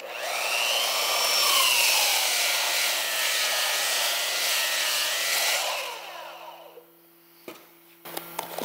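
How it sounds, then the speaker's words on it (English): A belt sander grinds steadily across wood for about six seconds while an old bag collects the dust, then winds down, followed by a few light clicks and knocks. "I got my belt sander and just an old bag that actually doesn't even fit this belt sander. I'm gonna use this to collect some dust."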